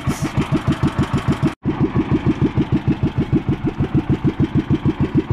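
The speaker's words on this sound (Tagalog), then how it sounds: "may humarurot na bangka. Meron na humarurot papunta sa amin" A motorboat engine approaching at speed throbs loudly and close by in a fast, even pulsing rhythm, with one brief dropout partway through.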